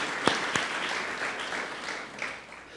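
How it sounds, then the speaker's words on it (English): An audience at a West Virginia State University campaign announcement claps for an honoree, opening with a couple of sharp, distinct claps before settling into a sustained, moderately loud round of applause that tapers slightly at the end. "Let's give Carolyn Stewart a round of applause."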